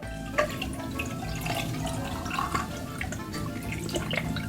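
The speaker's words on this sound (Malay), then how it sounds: "Jadinya mula kita tuang air dulu." Water is poured into a cup during a fast-food burger meal, a close splashing, dripping trickle that runs steadily for several seconds with small gurgles and no talking.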